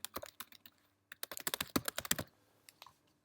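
Fingers typing a message on a computer keyboard, quick bursts of close, crisp key clicks with a short pause in between.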